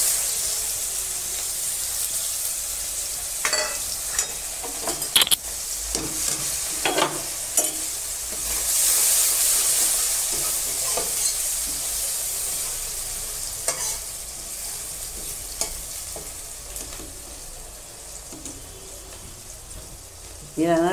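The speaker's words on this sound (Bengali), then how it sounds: "পেঁয়াজগুলো আমি একটু ভেজে নেব।" Onions frying in oil seasoned with nigella seeds, a steady hiss of sizzling with irregular spatula scrapes and stirring knocks close by, no one speaking.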